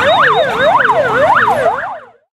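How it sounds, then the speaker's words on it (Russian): An alarm siren wails at a firefighter drill on a training ground in Akhtyrsky, loud and close, sweeping up and down in a steady rising-falling cycle roughly every half second before cutting off abruptly, with no voices. "Поступает сигнал тревоги."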